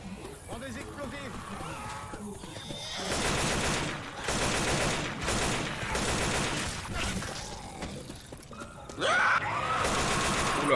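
Gunfire against zombies in the co-op shooter Left 4 Dead 2, with rattling bursts of shots mixed with groaning and screaming undead in a noisy, chaotic scene, plus voices talking throughout.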